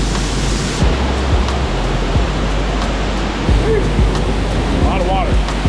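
Heavy rushing water roars steadily at Dry Falls, a broad dense wash of noise with wind buffeting the microphone and faint voices underneath.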